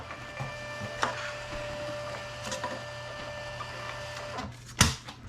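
A Rollo label printer feeds out shipping labels with a steady mechanical whir, punctuated by a few sharp clicks and a louder clack near the end, with no voices.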